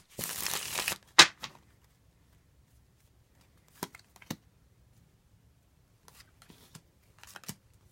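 A tarot deck being shuffled in a quiet room, a short dense riffle of cards followed by a few sharp taps and soft scattered card sounds.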